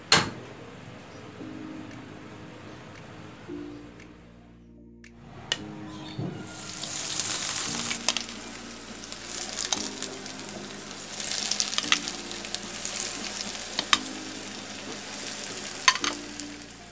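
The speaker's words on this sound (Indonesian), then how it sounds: "Sekarang aku mau goreng risoles yang aku sudah diamkan di dalam freezer tadi" Frozen vegetable risoles fry in hot oil with a steady, loud sizzle. Occasional clinks and stirring clatter from a utensil in the pan run through the crackling.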